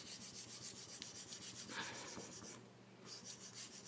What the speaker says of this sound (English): I'm going to burnish.